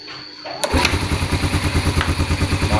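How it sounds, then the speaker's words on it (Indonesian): An older Yamaha Vega motorcycle with an ignition fault and faulty CDI is kick-started and catches on the first kick, then settles into a close, loud, pulsing idle. "satu kali engkol langsung bisa hidup ya teman-teman."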